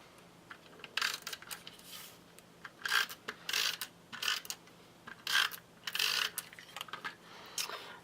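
Tape crinkling and rubbing as it is pressed onto the back of a craft piece, a run of short scratchy bursts at uneven intervals, close and quiet over a low steady hum.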